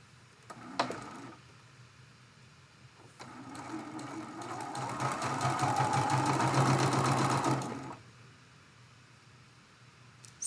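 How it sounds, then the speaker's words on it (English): A sewing machine chain-pieces Dresden Plate quilt block pieces cut from charm packs. A few faint clicks come first, then a steady, close mechanical whir runs for several seconds before stopping. "So just chain piecing each one of them."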